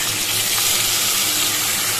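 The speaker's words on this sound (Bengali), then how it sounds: "এর মধ্যে মশলার পেস্টটা আমি দিয়ে দিচ্ছি" Potatoes and taro fry in a pan with spice paste just added, producing a dense, even sizzle that holds steady and close at a loud level, with no voices.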